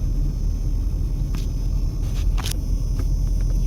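Saturday night traffic crawling along the Las Vegas Strip, a continuous low rumble of engines with a few brief higher passing noises and clicks over the steady roar.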